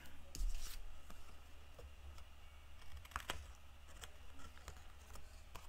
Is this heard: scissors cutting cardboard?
yes